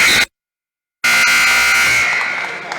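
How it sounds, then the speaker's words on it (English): A wrestling match period-end buzzer at a high school meet sounds loud and steady, starting abruptly after a short silence and holding a harsh tone for nearly two seconds. "Were you turning the buzzer down while I was gone?"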